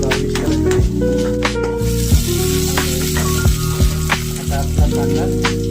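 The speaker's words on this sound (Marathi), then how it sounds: "आपण त्याच्यामध्ये 2 चम्मच तेल टाकूया. आता आपण कांदा टाकूया." Chopped onion sizzling in two spoons of hot oil in a kadhai, a steady close crackle and hiss with occasional louder pops and stirring scrapes, no voice over it.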